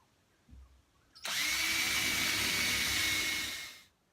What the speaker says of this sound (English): we're going to go through and drill a few holes